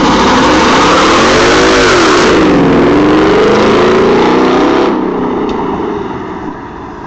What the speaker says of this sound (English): We're about to record Mustang with my Borla exhaust.